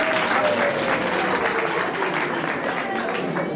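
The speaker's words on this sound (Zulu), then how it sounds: "ngicela ningishayele ihlombe" A crowd applauds at a tombstone unveiling church service, a dense, loud, steady clatter of many hands clapping together throughout, with voices mixed in beneath.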